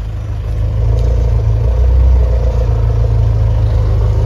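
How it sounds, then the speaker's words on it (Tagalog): A Mitsubishi Lancer engine idles steadily up close after repair, a loud, even low rumble with a faint mechanical clatter running through it, no voices. "pakinggan nyo ngayon yung andar ng makina"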